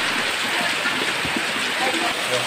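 Heavy rain pours down in a dense, steady roar close by, with faint voices partly mixed into the downpour.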